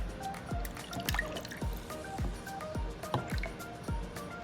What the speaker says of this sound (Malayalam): ആദ്യമായിട്ട് ഞാൻ കാച്ചിയ മോരാണ് ഒഴിക്കുന്നത്